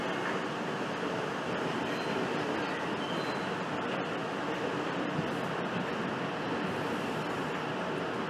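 NYC subway train pulling into Van Cortlandt Park terminal station at 242nd Street, a loud continuous rumble of wheels and rail noise with broad steady roar throughout, no voices.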